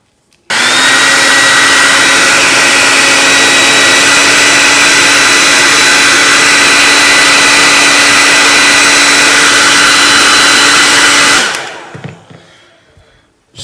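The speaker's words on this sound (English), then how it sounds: "a hair dryer to make things work a bit faster" A loud, steady hair dryer blows continuously for about eleven seconds, then cuts off abruptly, leaving quiet rustling behind.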